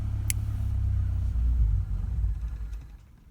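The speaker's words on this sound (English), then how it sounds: "Car dies." A car engine with a fuel pump killswitch cuts out: a steady low idle rumble wavers briefly, then sags and fades away as the motor dies, close and without talk.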